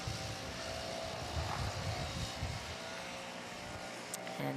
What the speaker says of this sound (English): the noise you hear in the background is the leaf blowers over on grandstand to